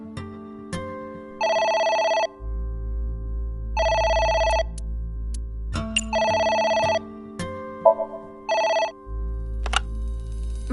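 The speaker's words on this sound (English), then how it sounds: "It's the phone." A telephone rings in repeated double bursts, loud and close, with a steady low hum running between the rings in a Japanese diner.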